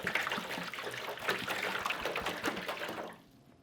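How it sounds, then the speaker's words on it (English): Pastrami brine is poured into cups of water in a steady, splashing stream for a few seconds, close by, then tapers off to quiet. "I'm going to pour this off into our other 12 cups of water"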